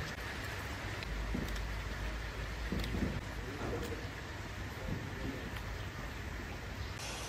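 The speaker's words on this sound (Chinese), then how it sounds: "像今天这个天啊，哗哗的下雨" Heavy rain pours down outdoors where lame donkeys are kept, a steady dense hiss that holds at an even level from start to finish with no breaks.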